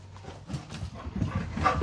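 Dogs make excited noises as they are sent outside in a home, with brief yips, whimpers and scuffling over about two seconds, fairly close and loud.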